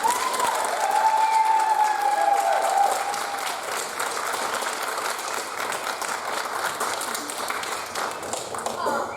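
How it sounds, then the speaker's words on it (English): An audience claps and cheers after a children's theatre production of Blackbeard the Pirate in Manchester, Georgia. The steady applause fills the room from start to finish, and voices and whoops are scattered through it. "So let's give another round of applause."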